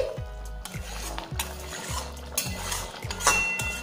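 Tomato chutney with green chillies and chopped coriander is stirred in a pot, a spoon scraping and knocking against the metal in a regular rhythm of about two strokes a second, with a soft sizzle underneath.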